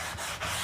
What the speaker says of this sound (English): Then sand it in crosshatch patterns to get it nice and straight.